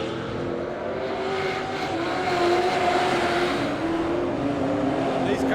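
Stock cars race around a track at night at the NZ Stockcar GP in Gisborne, with a loud, continuous roar of several engines whose pitch rises and falls as they lap steadily.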